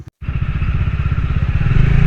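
A motorcycle engine on a hill road between Paderu and Araku starts up after a short silence, then rumbles steadily and close with a low, throbbing note, growing slightly louder toward the end.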